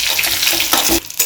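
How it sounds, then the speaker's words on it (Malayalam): Dried red chillies broken into small pieces fry loudly with roasted coconut in a pan for Kerala sadya-style koottu curry, a dense continuous sizzle with stirring scrapes, close and without speech. "ഇനി ഞാൻ ഇതിലേക്ക് ഒരു 3 കായ്മുളക് ചെറിയ പീസാക്കിയിട്ട് ഇടുന്നതാണ്."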